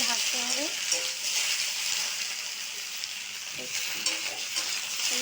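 Okra and potatoes frying in oil over a high flame give a loud, dense, continuous sizzle, with occasional stirring scrapes and faint bits of voice beneath.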